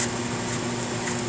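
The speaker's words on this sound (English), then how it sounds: "sorry about the fan, the exhaust fan, if you guys can hear that" A kitchen exhaust fan runs steadily throughout, giving a constant, moderately loud whirring hum with no talking.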